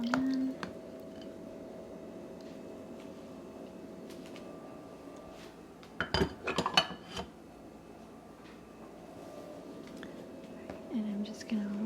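Butter plops into a mixing bowl of coffee cake muffin batter, a brief, soft, wet thud and clatter partway through. A quiet, soft-spoken voice is heard before and after it.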